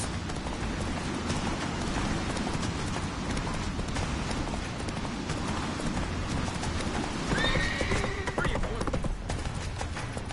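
Horse hooves clip-clopping at a gallop in Witcher 3, with a whinny near the end, set against game music and ambient rain, steady and fairly loud throughout.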